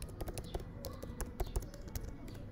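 A password is typed on a computer keyboard, with quiet, irregular key taps in a short burst and no talking.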